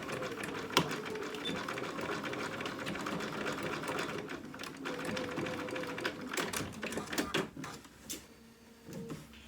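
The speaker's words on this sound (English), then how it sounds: "I'm actually going to stitch back and forth a couple of times" A sewing machine stitches back and forth across a tie on a small dog outfit, close rapid mechanical clatter running in bursts that pause and restart briefly near the end.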